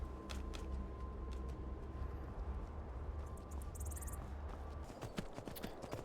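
Horse hooves clip-clopping in VR Skyrim, a steady series of faint hoof falls over a low ambient bed of wind and insect-like chirps, with no talk.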